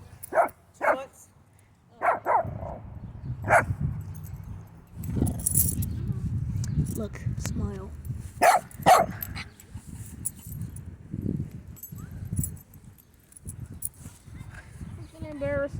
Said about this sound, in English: No, she sees another dog.